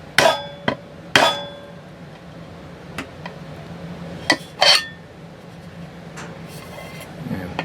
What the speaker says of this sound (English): Take your hammer and give it a couple taps.